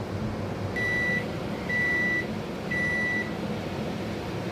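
A microwave oven running with a bowl of vinegar and water inside to clean it, its steady hum joined by three evenly spaced long beeps, loud and close.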